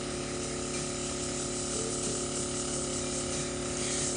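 A steady, faint hiss of Liquitex paint being test-sprayed runs unbroken for a few seconds, with no talking.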